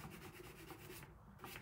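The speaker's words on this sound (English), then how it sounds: "We'll just sand it off." Light rubbing of a nail file against a painted DIY gnome, sanding off excess paint in a quiet, steady back-and-forth scrape with a brief pause near the end.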